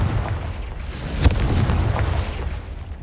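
Confringo spell explosion in Hogwarts Legacy: a deep, booming blast with a sharp crack at its peak, surrounded by rumbling low noise, close and fairly loud, with no voices.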